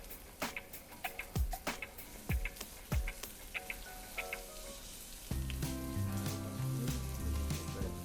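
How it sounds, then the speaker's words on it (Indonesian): Shallots and garlic with crushed lime leaves and bay leaves sautéing in a pan, a quiet crackle of scattered pops and ticks close by that settles into a steady low sizzle, with no voices. "Nah, ini kita tumis dulu sampai agak sedikit layu"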